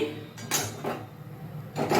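A metal wok (kadai) set down on a gas stove burner makes a few distinct clanks and clatters, spaced out across a couple of seconds, close and fairly sharp, with no talking.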